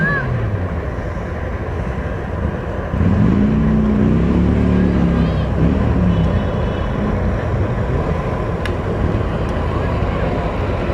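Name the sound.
small tractor driving past in a parade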